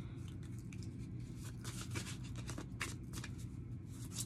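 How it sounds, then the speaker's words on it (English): Tarot cards shuffled and pulled from a deck, rapid papery riffling and flicking bursts close up, fairly quiet against a low background hum, without speech. "I'm gonna go ahead and pull from these cards."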